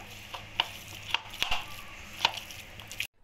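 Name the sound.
mashing boiled potatoes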